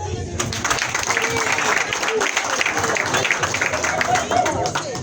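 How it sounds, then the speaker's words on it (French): An outdoor crowd at a political community gathering applauds steadily, a dense continuous clapping that stays loud throughout, with some voices mixed in. "Quand ce sont les hommes, vous applaudissez vraiment."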